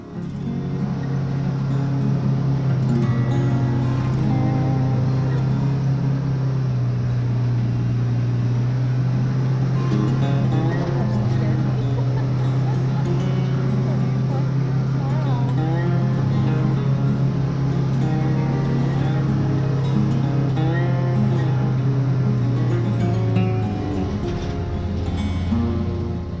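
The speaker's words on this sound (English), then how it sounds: "turn it into a night ride heading back home" A Can-Am Maverick side-by-side utility vehicle drives steadily at night, its engine a loud continuous drone with a low hum that fades out near the end; no talking.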